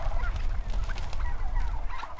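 Farm-raised turkeys on a Vermont farm call loudly and continuously, a dense chorus of overlapping honking, gobbling cries from a large flock close by.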